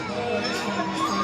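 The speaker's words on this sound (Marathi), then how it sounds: "मित्रांनो बघा एवढी गर्दी आहे." A crowd of people near the Wadala monorail station on the way to a Vitthal temple, a dense close murmur of many overlapping voices and chatter throughout.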